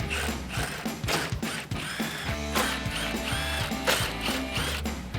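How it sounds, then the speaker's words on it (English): Ratchet with a 10mm socket backing out the top grille bolts on a 2007-2013 Chevrolet Silverado 1500, with close, steady rapid clicking bursts running through the whole stretch. "We're gonna start with the 4 10mm bolts at the top using a 10mm socket."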